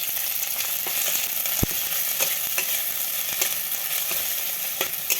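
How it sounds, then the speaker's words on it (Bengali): Soya chunks fry with garlic and ginger paste in a pan, giving a steady, loud, close sizzle throughout, broken by a few sharp spatula taps and scrapes, with no talking. "এবার আমি এগুলোকে আমি একটু ফ্রাই করে নেব। আমি দিচ্ছি হাফ চামচ রসুন বাটা আর হাফ চামচ আদা বাটা।"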